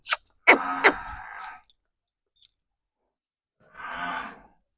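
A large pregnant water buffalo on a Punjab farm lets out two deep, drawn-out moos nearby, separated by a few seconds of quiet.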